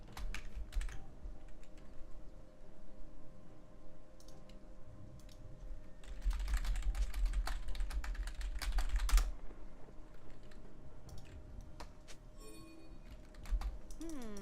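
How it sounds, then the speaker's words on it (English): Typing on a computer keyboard during a League of Legends game, with quiet, irregular key clicks in scattered bursts and a busier flurry in the middle, plus faint game sounds. "I guess I can type it."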